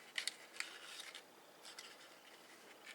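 Scissors cutting a paper cupcake wrapper, a few faint crisp snips close up in a quiet room.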